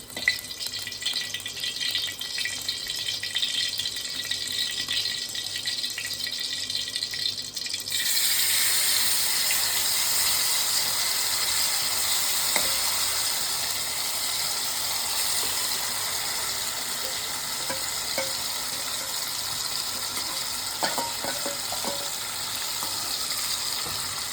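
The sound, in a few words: marinated chicken roasting in ghee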